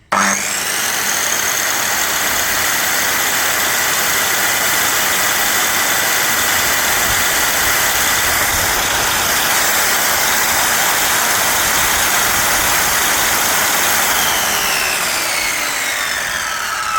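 The motor of a Doliz BA117 7-inch circular saw spins with no load, producing a loud, steady, high-pitched whine that holds constant for the whole stretch and has no other sounds over it.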